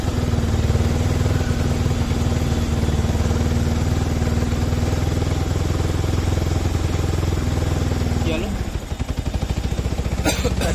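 A Yamaha R15 V3 motorcycle with a starting problem idles steadily up close with a constant low engine drone and a faint whine, then the note dips and stutters briefly near the end before settling back into a smooth idle.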